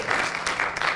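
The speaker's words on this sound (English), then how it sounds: "you can clap for them" At the 2010 Champlain College Elevator Pitch Competition, the audience claps for the judges: a brief burst of dense, even applause from many hands, moderately distant and with no one speaking.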